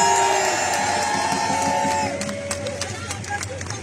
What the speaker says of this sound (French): je voudrais qu'on fasse encore un énorme applaudissement